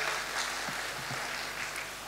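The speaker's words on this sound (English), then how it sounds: "Ladies and gentlemen, a round of applause for all the 8 presenters." Conference audience applauding the eight presenters at an African blockchain event, a steady wash of clapping that carries evenly through the whole stretch with no voices on top.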